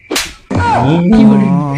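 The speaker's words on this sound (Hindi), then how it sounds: "थप्पड़ खाए।" A sharp slap on the face in a comedy sketch: one quick crisp smack near the start, followed by a drawn-out vocal reaction and sustained humming tones.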